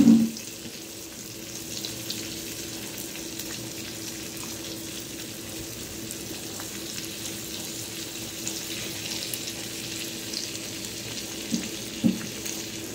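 Rawas fish topped with crushed garlic fries in a pan with a soft, steady sizzle and hiss throughout, broken by a couple of small clicks near the end.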